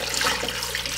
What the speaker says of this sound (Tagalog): At ngayon ibabalik natin yung pinagpakuluan natin dito na tubig.